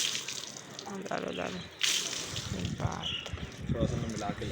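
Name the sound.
water being poured over a cow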